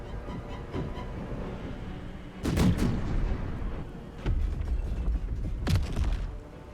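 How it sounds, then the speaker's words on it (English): Artillery strike in Baldur's Gate 3, heavy booming blasts landing in several separate loud impacts over a continuous rumbling battle din. "And straight into the artillery strike."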